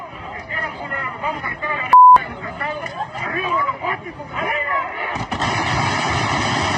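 Sharp bursts of gunfire shot into the air crack repeatedly amid shouting crowd noise in Mexico, with a brief electronic beep and a loud rushing din near the end.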